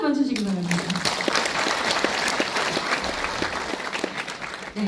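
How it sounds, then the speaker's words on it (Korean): Audience applause at a book launch event for an education superintendent candidate. A steady wash of many hands clapping runs throughout, with a speaking voice briefly over its opening moment. "그럼 박수 한번 주시기 바랍니다."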